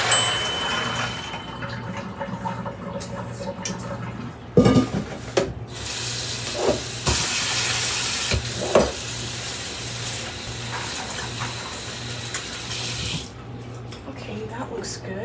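Tap water runs steadily over soaked beans in a sink for Mexican-style beans, a continuous hiss with a louder, brighter stretch midway, along with scattered clatter and soft kitchen background.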